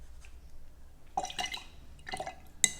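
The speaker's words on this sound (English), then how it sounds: "let's add a bit more water to my brush" A paintbrush is dipped and swished in water while painting with Raw Umber paint, giving a few soft, faint wet dabbing and dripping sounds in short bursts.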